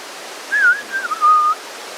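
A person whistles a short wavering tune, a few clear notes over about a second against faint background hiss.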